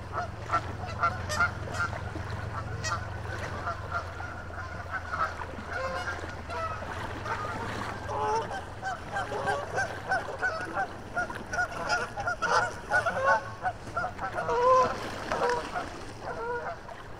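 Geese honk loudly and repeatedly along a river bank near their likely nest, the agitated calls overlapping over a low boat engine drone and faint water noise.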